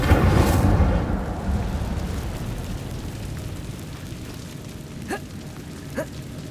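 The Incendio fire spell from Hogwarts Legacy is cast as a loud fiery whoosh and roar, then a crackling burst that fades into a low rumble, with two short sharp flicks near the end.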